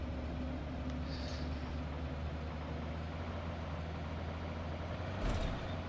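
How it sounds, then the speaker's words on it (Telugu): A bus rumbles up in a video game, a faint, steady low engine drone with a brief hiss like an air brake near the end. "వెహికల్ బస్సు ఎంటర్ అవుతుంది"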